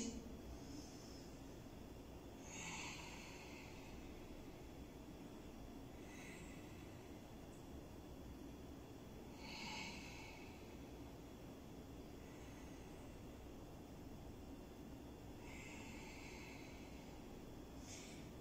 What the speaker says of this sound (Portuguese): fazendo a respiração com o Jhayapranayama, que é a respiração sussurrante